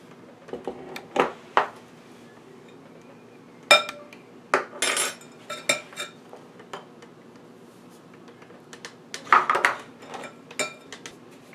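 A spoon clanks and scrapes through stiff 7-up bundt cake batter in a bowl, making scattered irregular knocks with quiet pauses between strokes.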